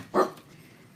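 A pet dog gives one sharp, close bark, then falls quiet, leaving only faint room noise.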